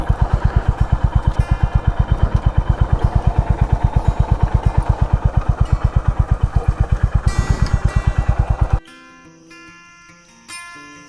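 A motorcycle engine runs close by with a steady, rapid pulsing on the ride up to a hilltop temple near Narayanpur, Alwar, then cuts off abruptly, leaving quiet surroundings with a faint sound near the end.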